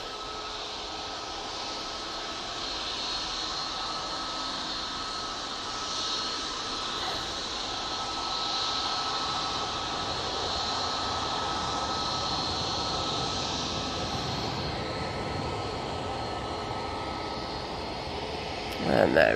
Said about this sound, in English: And that EasyJet is off to Amsterdam Schiphol.